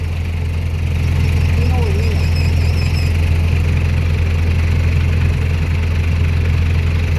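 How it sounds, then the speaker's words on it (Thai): Dump truck with a faulty, noisy gearbox: a loud, steady low engine drone with a droning mechanical whine running throughout, close by, with someone talking briefly over it. "เสียงดังมากเลยเกียร์ ไหน นี่ เสียงเกียร์เสียงเกียร์มันนี่"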